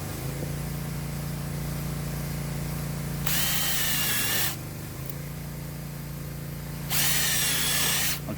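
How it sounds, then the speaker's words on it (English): Power drill driving new screws through picnic bench planks into an old wooden frame, two steady whirring runs of about a second each over a constant low motor hum, close and moderately loud. "I'm going to put some new screws down through the planks, these two planks, into the old frame."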